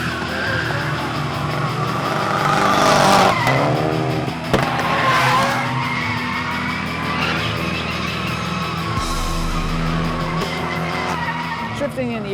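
Mitsubishi Lancer Evolution 7 rally car drifting, its engine roaring loudly and steadily while tires screech in long squeals, with shouting voices mixed into the din throughout.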